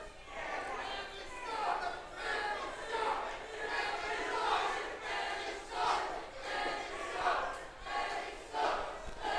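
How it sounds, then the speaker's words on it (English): Wrestling crowd at a Kingdom Clash 2024 event booing and jeering in repeated swelling waves, a broad roar of many voices that rises and falls at moderate volume. "Crowd not taking kindly to manny-mac."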